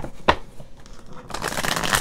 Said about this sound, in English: Let me get a couple good shuffles before we start the reading.